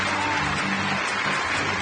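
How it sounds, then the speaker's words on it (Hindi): Studio audience applause greets the first guest couple on an Eid special TV talk show: a loud, continuous wash of clapping with music running underneath. "बहुत सारी तालियों में।"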